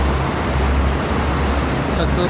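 Dense, steady roar of heavy traffic on a busy Jakarta–Cikampek toll road crowded with trucks, a continuous broadband rumble of engines and tires close by with no breaks, while people talk over it.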